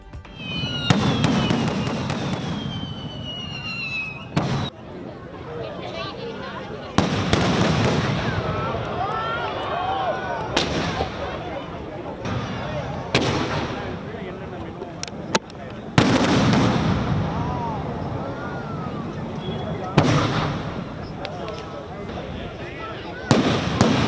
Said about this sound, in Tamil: சென்னை தீவுத்திடலில் வண்ணமயமாக பிரம்மாண்ட வானவேடிக்கை நிகழ்ச்சி